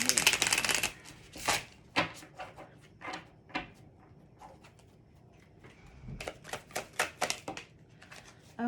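Heaven and Earth tarot cards are shuffled in quick riffling bursts, a loud flutter at the start followed by repeated short snaps and slaps of the deck.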